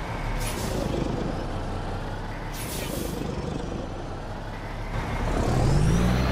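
A truck in American Truck Simulator, powered by a Cat C15 engine with an 18-speed Eaton Fuller transmission, drones steadily. Its air brakes give two sharp hissing releases, and the engine swells louder near the end.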